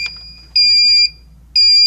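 A Solaris infrared barrier sounding short electronic beeps while counting during alignment, two clear high tones in a regular pattern, close and alone with no talk.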